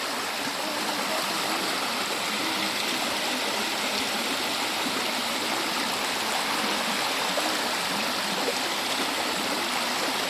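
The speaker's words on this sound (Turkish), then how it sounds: "Evet şöyle bir baktığımızda çok güzel bir küçük bir şelale var." A small waterfall pours into the Paşasuyu pool, a dense, steady rush of water that stays loud and unbroken throughout, close by and with no voices.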